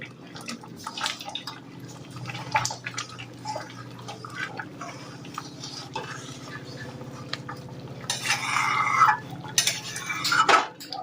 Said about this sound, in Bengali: গুড়টা অনেক বেশি ফুটছে এবারে